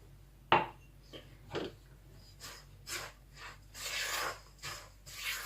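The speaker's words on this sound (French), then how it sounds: "vous mélangez bien pour que tout s'imprègne bien de la matière grasse" Dry ingredients being worked together by hand with butter and oil for Moroccan ghriba cookies, heard as a series of soft, close rubbing and crumbling rasps in irregular bursts with no talking.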